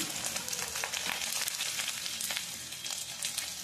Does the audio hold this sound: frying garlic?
yes